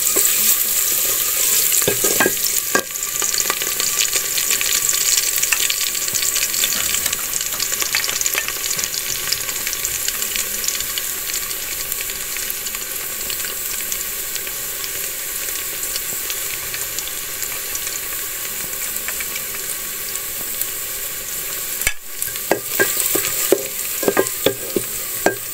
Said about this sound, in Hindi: अब थोड़ी देर लहसुन को भून लेंगे।